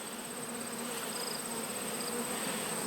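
Honeybees bearding on the outside of queenless nucleus hives fill the air with a faint, steady buzzing hum, individual bees whining past now and then.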